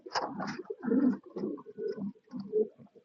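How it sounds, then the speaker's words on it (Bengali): A pair of white King pigeons coo close by in a series of soft, throaty, rolling calls with short pauses between them. "আমাদের কাছে রয়েছে এক জোড়া খুবই সুন্দর একদম হোয়াইট কালারের মধ্যে এক জোড়া কিং কবুতর"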